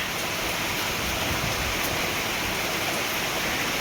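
Steady rain falls outdoors over farmland while the sun shines, a dense, even hiss of drops holding at a constant level throughout with no voices.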